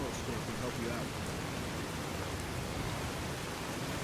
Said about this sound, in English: Wow, the rain is really loud.